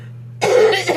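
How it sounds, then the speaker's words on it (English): A single sharp, loud cough bursts out after a moment of near-silence over a low steady hum, followed by a shorter second cough, with no one speaking. "I coughed so hard the screen went dark for a second"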